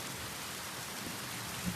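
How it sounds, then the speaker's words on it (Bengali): Heavy rain pours down in a steady, dense hiss of drops that stays even throughout, fairly faint and with no voices. "খুব বৃষ্টি হচ্ছে"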